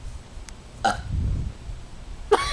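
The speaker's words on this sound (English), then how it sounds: "I'm gonna be burping all day." Burps from a child during a playful home challenge, three distinct belches spread over a couple of seconds, the middle one long and low, the last one sharp and loud, with no talking.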